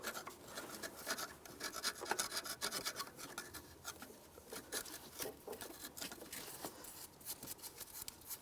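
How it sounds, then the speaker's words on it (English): A metal scraper rasps an old EGR valve gasket off the mounting surface on a 2006-2011 Cadillac DTS, giving close, continuous gritty scratching strokes with no talk. "If there's any remaining pieces of the gasket, you want to use a scraper and just scrape it off"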